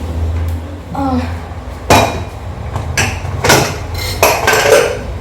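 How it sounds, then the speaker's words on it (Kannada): A pressure cooker of dal is opened in a home kitchen, with sharp metallic clanks and clinks of the lid and utensils at close range. "ಕುಕ್ಕರ್ ಓಪನ್ ಮಾಡ್ತೀನಿ"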